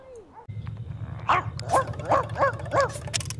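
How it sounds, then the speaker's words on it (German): A dog in The Sims 2 barks several times in a regular series of yelps that sound fairly close, over a low steady game background hum. "Wen kläfft er an?"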